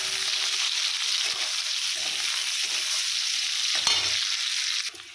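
A medium onion dropped into hot oil in a pan, a loud, steady sizzle and hiss with faint stirring scrapes underneath, easing slightly at the end.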